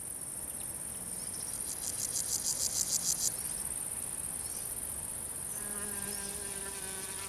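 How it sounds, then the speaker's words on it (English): Summer meadow insects fill the air with a dense, steady high chirping and buzzing, crickets trilling continuously with pulsing bursts layered over a constant hum, no voices. "The meadows are positively teeming with mating insects."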